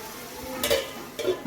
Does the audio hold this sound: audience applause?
no